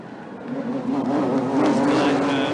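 GT3 and GT4 race cars scream past on the Colombo night race circuit in 2011, a loud, sustained engine roar that rises in pitch as they accelerate, heard up close and alone.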